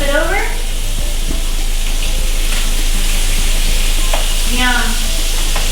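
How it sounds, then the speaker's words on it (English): Salmon fillet searing in a hot pan on medium-high heat for Tuscan salmon, giving a steady close sizzle throughout, with brief faint voice fragments and light utensil sounds over it. "allow the salmon to get nice and seared on the bottom"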